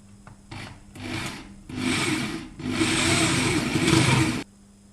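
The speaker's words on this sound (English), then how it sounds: "Two and a half mil drill." A small power drill with a 2.5 mm bit whirs into wood in several bursts, its motor pitch rising and grinding as it bores in, then stops abruptly.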